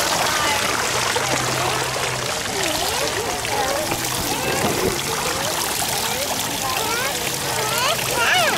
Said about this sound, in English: And now we're hanging out at the fountain.